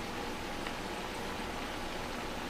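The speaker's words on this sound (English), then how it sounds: "So I hear the sizzling and everything going on." Cabbage cooking Southern style in a pot with soul food seasoning, giving a soft, continuous sizzle and bubbling hiss that stays low and steady throughout with no talking.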